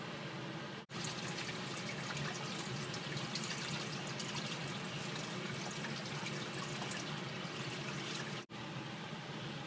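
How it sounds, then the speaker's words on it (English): Water pours steadily into a tropical fish tank, a continuous close splashing and trickling stream that runs unbroken for several seconds with two brief cutoffs. "So let's go ahead and add the tank water"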